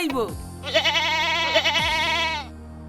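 A single long, wavering bleat rings out close and loud, like a goat, lasting about two seconds with a slight tremble in pitch.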